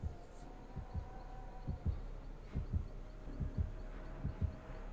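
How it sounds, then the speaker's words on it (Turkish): In the horror game Dead by Daylight, a muffled heartbeat warning thumps in steady double beats, low and throbbing, repeating through the clip under a faint background hum. "kalp atışı var."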